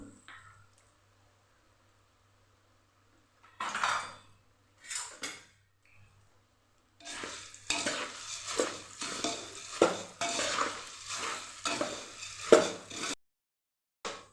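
Dry, rustling scrapes of puffed rice being roasted, stirred and tossed in a pan, coming in bursts with pauses, then a steady run of rhythmic stirring.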